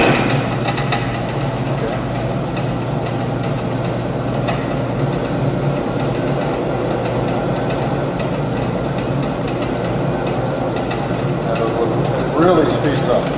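A honey extractor loaded with 72 frames spins steadily, giving a continuous loud mechanical drone and hum that fills the whole span, with voices talking over it.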